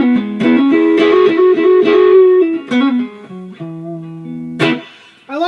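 An electric guitar played through an MXR Custom Badass '78 Distortion pedal set for crunchy rhythm overdrive rings out in loud sustained chords and single notes, with a few sharp attacks and a brief gap near the end.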